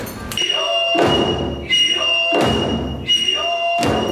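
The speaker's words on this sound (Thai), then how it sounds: "คาบุกินะคะว่าเป็นการแสดงค่ะที่ใช้เสียงซึเกะ เสียงซึเกะก็คือเสียงไม้" Sharp wooden clacks of kabuki tsuke clappers strike at a steady pace, each crack followed by a brief ringing decay, with a sustained tone lingering underneath.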